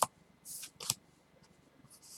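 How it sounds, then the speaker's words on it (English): Magic: The Gathering land cards are shuffled by hand, giving a couple of brief, quiet riffling swishes with short pauses between them, close and alone. "I'm just sitting here shuffling my lands"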